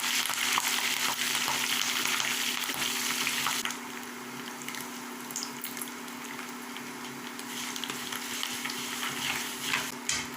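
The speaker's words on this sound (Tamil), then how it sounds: "கருவேப்பில் கொஞ்சம் நல்லா ஒடிகிற அளவுக்கு கொஞ்சம் வதக்கி விட்டுக்கலாம்." Curry leaves sautéing in hot oil for lemon pickle, a close steady crackling sizzle with a low hum beneath. It eases slightly partway through, with occasional stirring scrapes and no talk.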